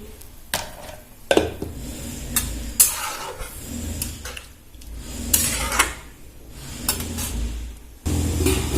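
Green papaya chutney with turmeric is stirred in a pan, close and clear. Irregular scrapes and knocks of the spoon come over a soft sizzle.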